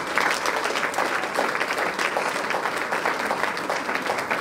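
Audience applauding delegations from various provinces as they stand at a political party's presidential campaign announcement conference; dense, steady clapping fills the whole stretch, close and sustained without talk.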